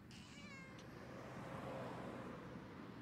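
In the video game Randal's Monday, a cat gives one short, faint meow at the very start, followed by a steady low background hum.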